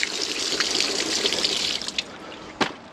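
Steady trickle of water running from an outside garden tap, faint and continuous, with a couple of small clicks near the end.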